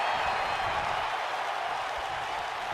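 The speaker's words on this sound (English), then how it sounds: "You hear this crowd, they're really into this match now" A crowd in a wrestling video game applauds and cheers during a match, a constant broad roar of clapping and crowd noise at moderate level, steady throughout without commentary over it.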